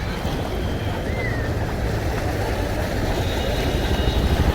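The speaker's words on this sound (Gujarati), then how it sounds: "જબરજસ્ત વરસાદ છે મિત્રો" Heavy monsoon rain in Ahmedabad roars in a dense, steady hiss with no letup, close and loud throughout.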